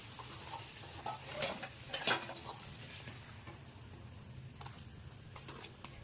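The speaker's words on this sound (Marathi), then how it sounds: "एक बाजू चांगली तळून झाल्यानंतर आपण तिला उलटी करायची आहे आणि दुसरी बाजू तळून घ्यायची आहे" Puri deep-frying in hot oil for a breakfast puri bhaji, a quiet steady sizzle with a few clinks and scrapes of a utensil against the pan partway through.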